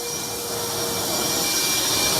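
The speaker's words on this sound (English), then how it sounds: "Let's get another vacuum in here." A vacuum used to suck up water during a flooding plumbing mishap roars as a steady, loud whine with a high tonal hum, continuous and close, with no talk.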